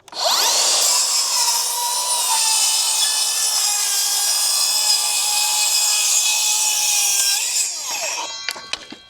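A Makita circular saw whines loudly and steadily as it rips through wood, a near continuous high-pitched cut of about eight seconds that winds down at the end with a few clatters.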